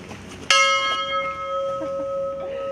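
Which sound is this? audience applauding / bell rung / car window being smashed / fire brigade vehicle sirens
bell rung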